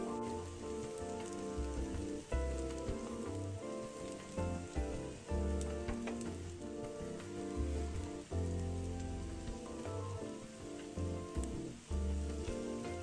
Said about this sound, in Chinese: 一直油煎至表面金黃微焦，外脆內軟。